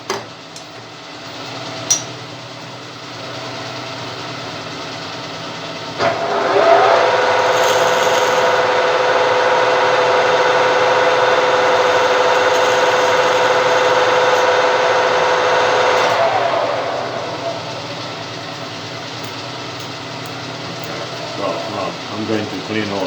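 A lathe cuts a small chamfer on a metal piston stop, a steady whirring, rubbing tone that holds for about ten seconds between quieter machine hum and a few clicks at the start and end.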